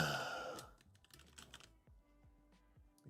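Quick bursts of key clicks on a computer keyboard, a rapid flurry at first and then sparser, fainter taps, close by and quiet, with no speech.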